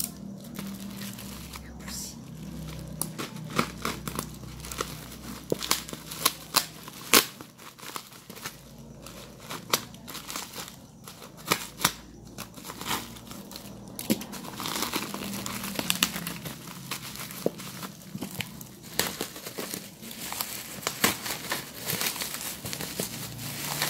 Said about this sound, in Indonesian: Ini pakai bubble wrap juga, lebih aman, packingnya lumayan rapi.